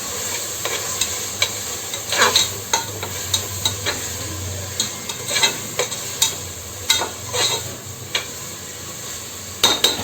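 Tomato masala for egg biryani with plenty of turmeric sizzling steadily in a pan, broken by repeated scraping and clinking stirs of a spoon against the metal, close and alone.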